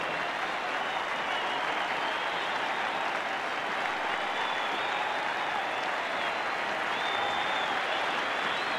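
A cricket crowd of about 18,000 on its feet cheering and applauding Greg Chappell's farewell century, a dense, continuous roar of clapping and cheers from a big stadium that holds steady throughout.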